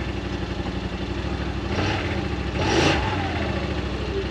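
A 2024 Yamaha Wolverine X2 1000 side-by-side fitted with a Weller Racing blockoff plate runs close by, holding a steady throbbing idle with valve clatter and rising into two brief revs near the end.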